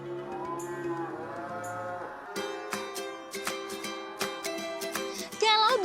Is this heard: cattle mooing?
yes